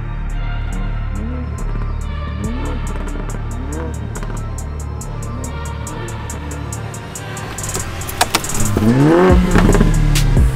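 Car driving with a steady engine drone and rising whine as it gains speed, regular ticking pulses above, then a louder, busier surge of revving and rattling toward the end.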